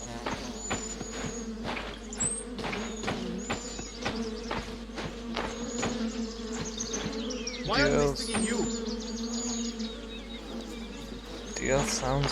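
Swarm of stinging bees in the video game The Vale buzzing loudly and continuously, the drone close and wavering, with brief sharp clicks and a swell of movement partway through.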